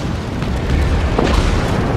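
A torpedo strike explodes against a ship in the naval video game World of Warships: a deep, rumbling boom that swells and rolls on for about two seconds, dense and heavy, with no voices.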